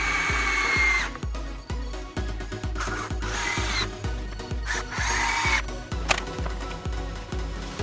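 A power drill drives long screws through 2x4s into a fence, whining in repeated short bursts that bog down as each screw bites, with occasional wood creaks and knocks, close by and unaccompanied by speech.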